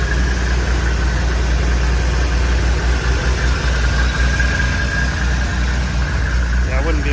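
A Nissan R34 GT-R V-spec with a built 2.8-liter engine and a huge single turbo idles steadily and evenly, close and loud, with a constant low rumble and a faint whine throughout.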